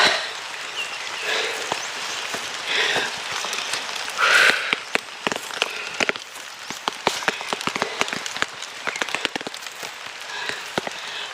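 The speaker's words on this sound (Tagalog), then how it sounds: "Umulan-ulan kasi guys. Nagpayong tayo." Rain falls in the mountains, a soft continuous patter with sharp scattered drops ticking close by, likely on an umbrella, lasting throughout at a moderate level with no talking.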